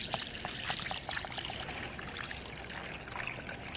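Water pours steadily into a dog's bowl, a continuous close trickle and splash running unbroken for several seconds with no voices.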